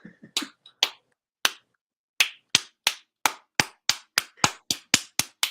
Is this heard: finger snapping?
yes